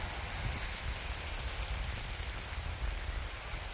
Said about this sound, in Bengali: দেখেন কেমন বৃষ্টি নামছে বৃষ্টি কিন্তু ভয়াবহ বৃষ্টি